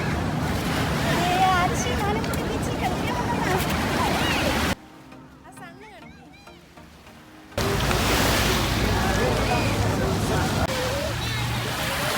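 Sea waves at Ajman Beach, a constant wash of surf and wind noise with people talking over it, dropping away briefly in the middle before the surf returns.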